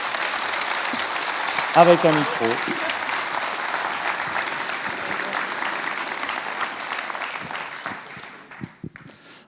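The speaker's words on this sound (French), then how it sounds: "On va vous applaudir déjà" A conference audience at a talk on critical thinking and research breaks into sustained applause, a broad wash of clapping that slowly thins and fades near the end, with a brief voice speaking over it early on.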